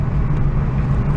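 A car drives along a road toward a small town, giving a steady low rumble of road and engine noise heard from inside for a brief moment.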